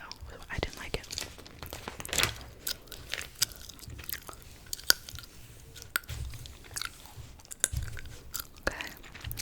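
Close, soft chewing of gum with wet clicks and smacks, recurring irregularly alongside faint whispering and crinkly page turns in a quiet room.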